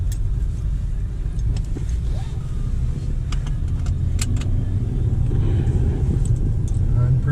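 A Mercedes C300 with newly replaced axle bearings rolls along on a test drive, its low, steady road rumble and engine hum filling the cabin, with a few light rattles and clicks over the drone.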